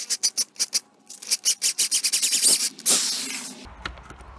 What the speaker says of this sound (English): I'm going to start drilling